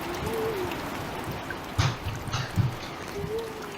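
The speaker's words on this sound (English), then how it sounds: "the weather just wasn't cooperating. It's really rainy and kind of messed up." Steady outdoor rain hisses across the whole stretch, with a few louder nearby drips or thumps midway and a faint bird call rising above it near the start and end; no one speaks.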